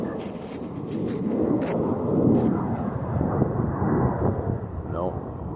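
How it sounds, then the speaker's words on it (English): A plane flies overhead near Sydney, its broad roar swelling and fading, with people talking over it. "the sound of that plane though"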